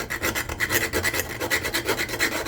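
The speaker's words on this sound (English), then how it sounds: "So I grate the nutmeg and I don't need any more than this" Whole Jamaican nutmeg scraped against a grater in quick, even back-and-forth strokes, a close rhythmic rasping of about a dozen passes with no voices.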